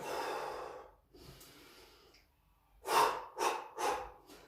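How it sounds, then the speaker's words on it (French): Deep breathing during an upper-body exercise session, a long exhale followed after a pause by three strong, close, rhythmic breaths through the nose or mouth. "Après on inspire, on expire."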